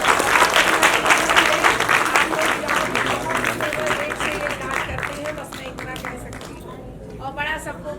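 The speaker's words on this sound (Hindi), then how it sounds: "जोरदार तालियां एक बार बजा देंगे" Audience at a charitable foundation's donation ceremony breaking into loud sustained applause, a dense clapping roar that fades toward the end, with a voice speaking over it.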